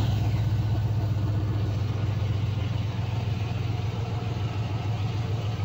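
A 1971 Chevelle, started with a push-start button, runs at a steady low idle, a loud continuous engine rumble close by with no revving and no talk.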